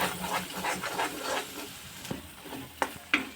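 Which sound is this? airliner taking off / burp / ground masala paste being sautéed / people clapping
ground masala paste being sautéed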